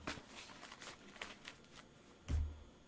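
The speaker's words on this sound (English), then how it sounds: "I put it back in here because I like you to see when I shuffle" Tarot cards being shuffled by hand, a run of soft riffling and sliding flurries with a brief louder thump near the end, fairly close and quiet, with no speech.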